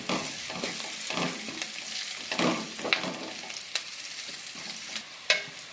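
Curry leaves frying in hot oil for a tomato sambar, with a steady close sizzle and crackle broken by several sharper spits and pops, plus occasional stirring scrapes.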